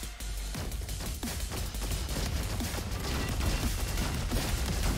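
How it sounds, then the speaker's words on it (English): Blast rifle firing in the shooter game Roboquest, a dense rapid stream of punchy shots layered with impacts and explosions, loud and continuous throughout. "This blast rifle is kicking ass."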